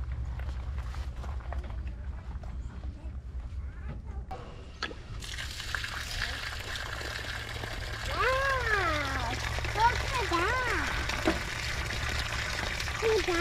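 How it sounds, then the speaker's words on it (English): Water running through a water softener hose at a fifth-wheel RV campsite setup, a steady flowing hiss that strengthens partway through, with a voice speaking over it. "then I'm gonna run water through it for about 30 seconds"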